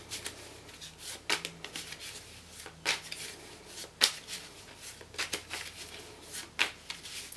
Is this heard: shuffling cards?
yes